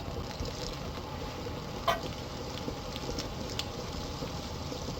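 A soft, steady crackling sizzle of butter and olive oil in a hot wok continues quietly throughout, with one brief clink partway through.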